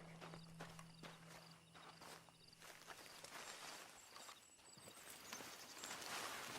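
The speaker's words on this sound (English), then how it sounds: "Then you better get on this horse." Hooves of a horse in Red Dead Redemption 2 clop in a steady walking rhythm, fairly quiet, with faint background ambience and no talking.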